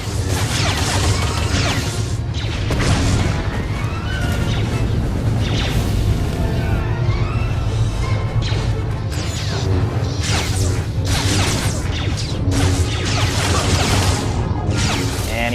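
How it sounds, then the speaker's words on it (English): Sith Warrior and Jedi Padawan duel with lightsabers in a video game, a dense loud stream of crashes, whooshes and clashing hits over a constant low hum. "here we have our first lightsaber on lightsaber battle"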